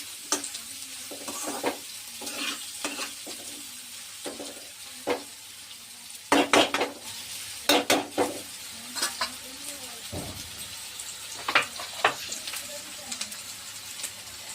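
Onions frying in a pan for bitter gourd curry, stirred with a utensil, giving a steady sizzle with repeated scraping strokes and a few sharper clatters against the pan.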